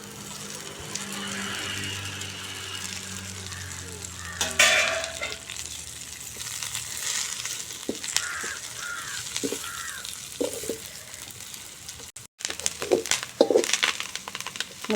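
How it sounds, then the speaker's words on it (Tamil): Fresh drumstick leaves fry with onion in a pan, giving a steady sizzle with repeated stirring scrapes and clinks, and a crow calls faintly now and then in the village background with no talking. "முருங்கைத்தலை எப்படி சவுண்டு கேட்குது பாருங்கள் பொரியிறது"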